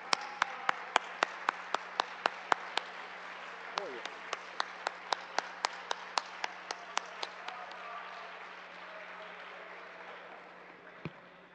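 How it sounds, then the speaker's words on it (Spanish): Members of a legislative assembly applaud after a bill is approved, with scattered sharp claps over a broad wash of clapping in a large chamber, fading toward the end beneath a steady background hum. "Creo que eso merece un aplauso,"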